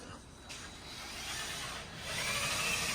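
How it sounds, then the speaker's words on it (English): A steady whirring power drill drills continuously while installing QA1 suspension on a shop truck, loud and close, with the pitch rising slightly toward the end. "All right, we are drilling"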